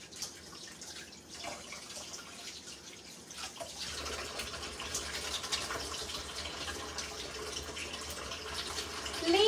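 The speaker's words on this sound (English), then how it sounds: "let me wash my hands from the meat" Hands being washed under a running kitchen tap after handling raw meat, a steady broadband rush of water that grows fuller and splashier partway through, close and fairly loud with no talking.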